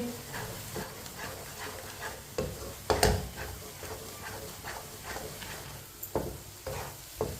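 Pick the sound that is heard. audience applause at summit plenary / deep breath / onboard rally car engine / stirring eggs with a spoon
stirring eggs with a spoon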